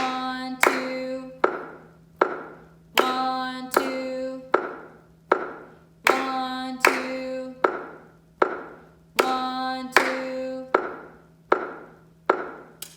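Hands clap in a steady quarter-note rhythm, crisp close claps in repeating pairs, while a voice counts aloud over the beat.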